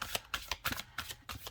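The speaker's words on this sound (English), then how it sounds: "But I was shuffling like this." A deck of oracle cards being shuffled by hand, a close, crisp series of riffling bursts in a quick, uneven rhythm with no talking.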